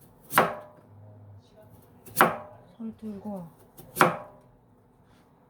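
A knife chops through potatoes on a board in three sharp, loud, isolated strikes about two seconds apart, with a brief soft murmur of voice between the second and third chops.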